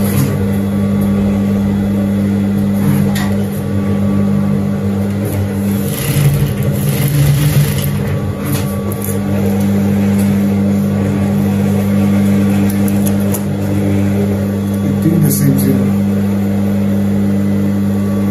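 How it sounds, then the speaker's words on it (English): A sewing machine stitches a welt pocket on a kaftan, its motor giving a steady, continuous hum with a slight rise and fall for the whole stretch. "We're going to sew this part."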